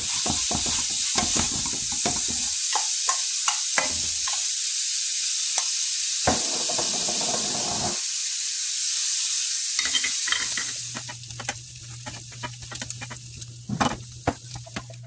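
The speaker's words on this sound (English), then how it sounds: "we're going to start off by rendering off this bacon" Bacon renders in a pan with a steady, bright sizzle and crackle, broken by scraping stir strokes, before the frying quiets and a low hum takes over.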